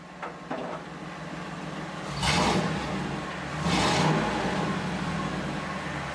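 A salvage van engine with its catalytic converter cut off and a loud cherry bomb muffler, revving twice in broad bursts over a steady idling rumble, close by.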